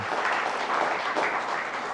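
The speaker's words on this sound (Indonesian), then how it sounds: "Ada Mas Reza Indragiri, tepuk tangan buat panelis kita." Studio audience of university students applauding panelists on an Indonesian democracy talk show, a steady dense wash of clapping lasting throughout without talk.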